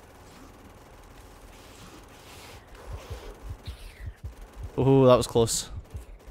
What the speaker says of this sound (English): it's definitely the assault rifle, or the SMG, or whatever the heck it's called, is the best weapon for this nonsense